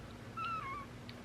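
Pet cat giving one short, rising-and-falling meow, close by in a quiet room, with a faint second chirp shortly after.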